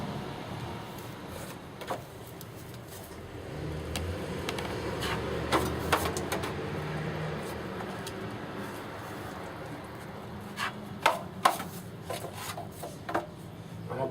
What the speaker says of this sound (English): I'm going to put on my last coat, which is all-purpose taping mud